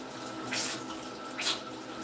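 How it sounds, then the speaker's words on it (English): Water running from a tap during a quick hand wash: a soft, steady hiss of flowing water with two brief louder splashes, faint and close, no voices. "And a quick wash of the hands."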